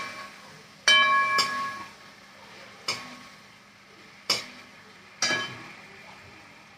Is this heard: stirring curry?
yes